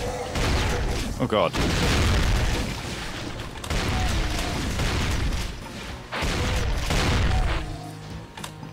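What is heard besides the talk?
grenade explosion in video game Brutal Doom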